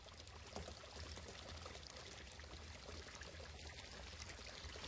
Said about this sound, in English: this stream must lead somewhere